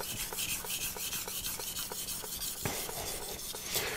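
A knife is sharpened on a whetstone held in a countertop stone holder: quiet, rhythmic scraping strokes repeat steadily at close range with no talking.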